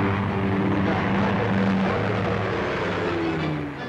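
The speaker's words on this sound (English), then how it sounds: "A Lincoln bomber acts as a tanker, and a Meteor takes on the fuel at about 250 gallons a minute." Lincoln bomber and Meteor jet flying together during in-flight refuelling, a steady, loud droning aircraft roar with a faint engine hum underneath, easing slightly near the end.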